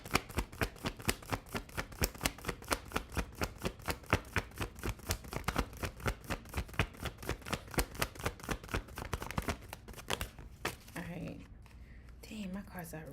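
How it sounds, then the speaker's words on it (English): Tarot cards being shuffled by hand, a long run of quick crisp riffling flicks in steady rhythm, close and fairly loud, easing into softer handling and rustling near the end. "Every time I like shuffle or I'm playing with my cards, he just stares at them in like awe."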